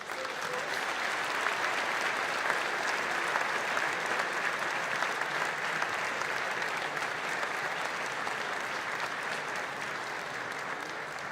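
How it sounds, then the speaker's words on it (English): A lecture audience claps continuously in dense, even applause that holds at a steady level for the whole stretch, close and loud with no speech over it. "I really appreciate your reaction and your applause"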